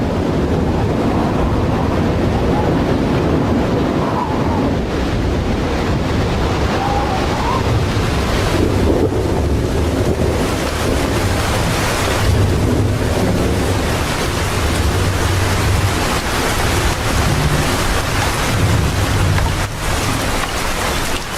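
An intense summer storm with strong wind, a constant loud roar of gusting air and rushing noise like heavy rain or surf filling the whole stretch without a break.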